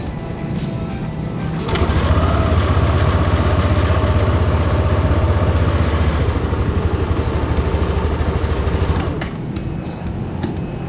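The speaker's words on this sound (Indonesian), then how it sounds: "dengan fitur SMG ini suara motor akan lebih halus ketika di starter ya." A Yamaha NMAX ABS 2020 scooter with Smart Motor Generator starts quietly and settles into a smooth, steady idle, a close low hum running for several seconds before fading back to background.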